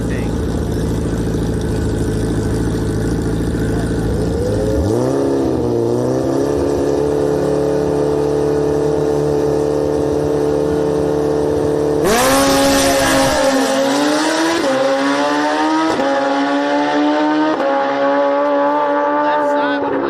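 Suzuki Hayabusa and Kawasaki Ninja motorcycles drag racing side by side on a strip, engines idling loud and close before sharp revving launches, high whining acceleration and gear shifts, with a second loud run starting midway and talk underneath.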